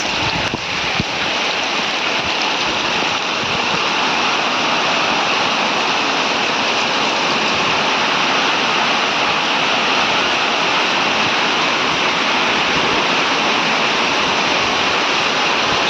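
Steady, heavy rain pours down over a cattle shed in a dense, unbroken hiss that stays constant the whole time, with no voices.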